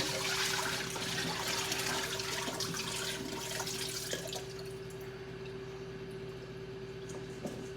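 Water drains from a pot of soaking potato steak fries, a steady running and trickling pour at close range that thins out partway through, with a faint constant hum underneath.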